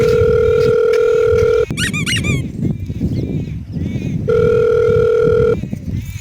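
A mobile phone rings in a comic Marwari phone-call scene, giving long, steady, loud electronic tones. A squeaky burst and some chatter break in, then the ring returns.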